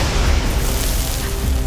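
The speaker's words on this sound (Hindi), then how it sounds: "तभी एक तेज धमाके के साथ रोशनी निकली" A loud, sustained explosion blast fills the moment, a dense rumbling roar that holds steady from start to end with no voices.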